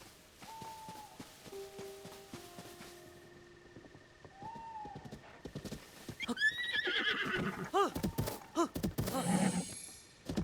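Horses in The Legend of Zelda: Tears of the Kingdom give several whinnies over a quiet game soundtrack of held tones, followed by a busier burst of clip-clopping hooves and snorts, loud and close.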